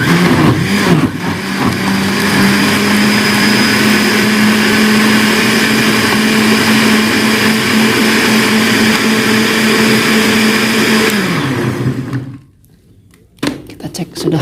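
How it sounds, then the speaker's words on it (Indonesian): A blender whirs loudly and steadily for about twelve seconds while processing moringa leaves, then cuts out abruptly, leaving near silence before a few faint knocks. "Kita blender."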